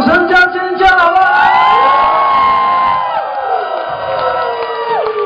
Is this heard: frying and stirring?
no